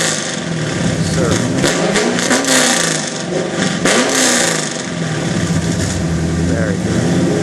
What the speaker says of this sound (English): 2010 Camaro. The only one that sounds like that.